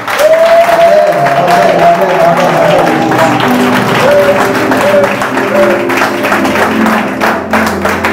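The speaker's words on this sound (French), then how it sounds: "Acclame encore Jésus." A church congregation claps and cheers loudly in acclamation of Jesus, dense applause with shouts and a few raised voices rising over the crowd throughout.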